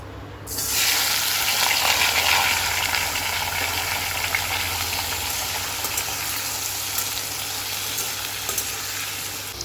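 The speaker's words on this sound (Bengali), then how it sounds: "আলু ভাজা বসিয়েছি" Sliced potatoes frying in a small wok give a steady, loud sizzle that starts abruptly and holds as a continuous crackling hiss with faint bubbling throughout.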